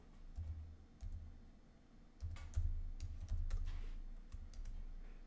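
Typing on a computer keyboard, with clusters of quick, close key clicks and taps in irregular bursts over a low background hum, and no voices.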